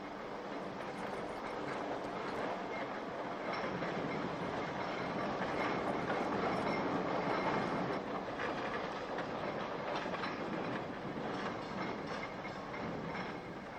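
British trams rumbling along rails with steady rolling noise and faint clacking and squeal, sustained and moderately near, no voices.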